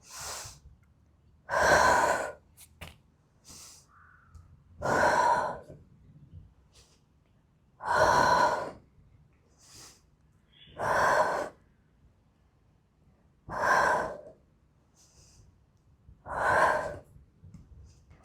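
Slow, deep breaths during an intense morning yoga stretch with a leg behind the head, six strong exhales in an even rhythm with faint breaths between, close-miked and intimate.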